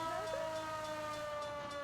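A police car siren in the video game L.A. Noire wails steadily and loudly over a faint engine rumble, with no voices.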